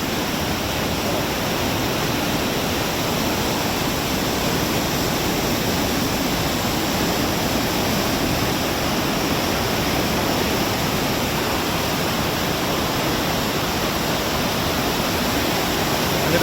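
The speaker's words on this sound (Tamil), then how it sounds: "இங்கே தண்ணியோட இறைச்சல்" Water roars steadily out of a check dam, a dense, unbroken rushing torrent held close and loud for the whole stretch, with no voices over it.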